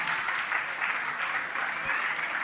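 An indoor audience gives a short burst of steady applause at a painting unveiling during a religious gathering, even and moderately distant, with dense clapping throughout.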